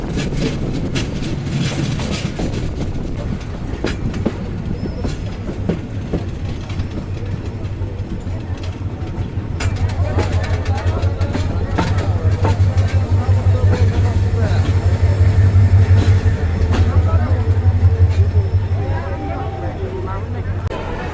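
A passenger train pulls into a Bangladeshi railway junction station with a deep, rising engine rumble and rolling rail noise, building to a loud peak before easing, while a crowd murmurs on the platform.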